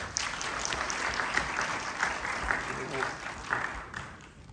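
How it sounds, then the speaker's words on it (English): Audience at the Serbian Film Festival in Sydney gives sustained applause after a performance, a steady wash of many hands clapping in a hall, moderately loud and continuous throughout. "another round of applause"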